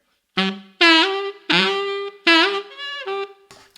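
Solo saxophone plays a phrase of several notes, each bending noticeably up from below into pitch with a pronounced swooping scoop, close and fairly loud.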